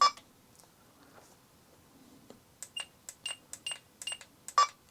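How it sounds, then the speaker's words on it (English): Futaba 32MZ radio transmitter trim buttons giving short electronic beeps, first a few scattered ones then a quick irregular run of about a dozen, with a louder distinct beep at the centre point, close and clear. "they do the different louder beep when you're in the middle"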